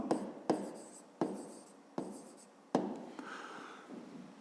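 A pen writes a fifth-grade math solution on paper by hand. Several distinct scratchy strokes, each starting with a sharp tap and fading, sit close and fairly quiet with short gaps between them.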